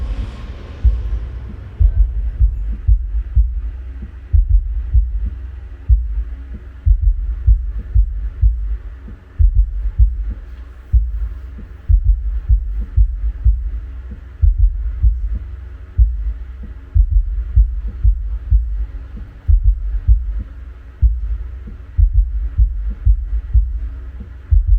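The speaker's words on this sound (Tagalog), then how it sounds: "So subwoofer ngayon ang tumutunog." Active subwoofer producing deep thumping bass pulses in a steady repeating rhythm, loud and booming with little else above it, running for about twenty-five seconds.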